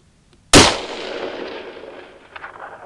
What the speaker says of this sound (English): I'm shooting at 400 meters